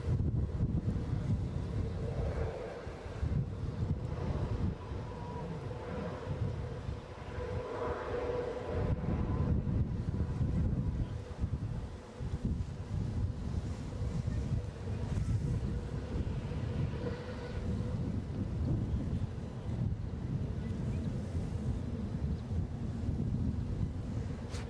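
Gusty wind buffeting a microphone outdoors at Edinburgh airport, a steady low rumble rising and falling in strong surges throughout, with no clear voices.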